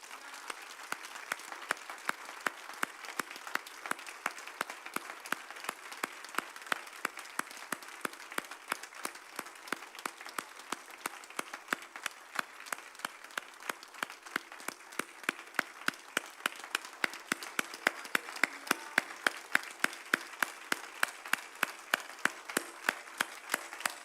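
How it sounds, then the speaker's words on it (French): A church congregation at an Easter service in an evangelical Baptist church applauds steadily, clapping together in a fairly regular rhythm that grows slightly louder toward the end, heard alone without speech. "Est-ce que je demandais à toute l'Assemblée d'applaudir le Seigneur?"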